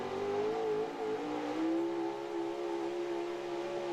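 A pulling truck's engine drones and revs at a truck and tractor pull, its tone rising and falling steadily at some distance, loud and continuous over faint crowd ambience.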